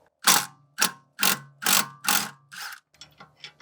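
A socket wrench ratchets in short bursts while loosening a sway bar end link on a BMW E46, five or six distinct clicking pulls close by, the last few quieter and choppier.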